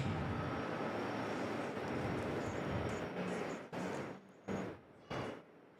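A Cathay Pacific airliner taxis outbound at Perth Airport Terminal 1 with a steady, broad jet engine roar that fills the air, then drops out in a few abrupt cuts near the end.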